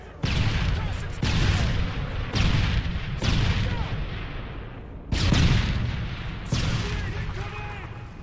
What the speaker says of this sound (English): Toss and stun grenade!